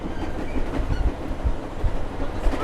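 A passenger train rolling at 79 mph, taken from the open vestibule: a loud, steady roar of wheels and wind with rhythmic clickety-clack thumps throughout, and no voices.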